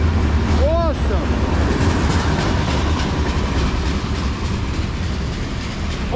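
A Norfolk Southern 5604 Geep locomotive hauls hopper cars past on a local job, a loud, close, continuous rumble of wheels with steady clatter and a brief screech near the start.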